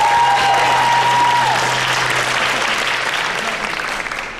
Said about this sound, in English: One more round of applause for Liam.